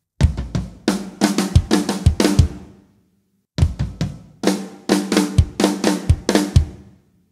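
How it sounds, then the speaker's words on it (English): Drum fill from bar 4 of a song, played on a kit in two bursts of rapid, loud hits: rolling toms, snare and crashing cymbals, with a short gap between them. "Again, in bar 4, there is some kind of a fill-in, and this one sounds like this."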